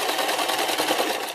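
A domestic sewing machine stitches steadily at close range, its rapid mechanical chatter continuous and fairly loud through the whole short stretch with no voices.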